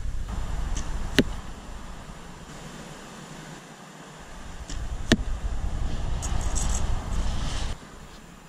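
Arrows fly and strike a target outdoors, with two sharp thuds several seconds apart over steady wind-like background noise.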